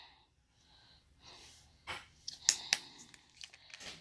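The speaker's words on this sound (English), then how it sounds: "So let me sniff it." Close, quick nasal sniffs at a tub of whipped body cream, a few sharp inhalations in a row after a brief quiet start, with soft breathing between them.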